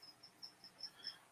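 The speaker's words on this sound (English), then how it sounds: "I've got some noisy crickets back in the game, and so they've been singing a lot." Crickets kept in a reptile-park enclosure chirp in short, regular high-pitched bursts, about six evenly spaced chirps, faint and steady with no talking.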